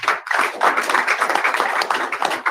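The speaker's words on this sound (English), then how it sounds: "Another round of applause for him." Round of applause at a political press conference, dense and steady clapping from many hands filling the room for a couple of seconds, close and fairly loud.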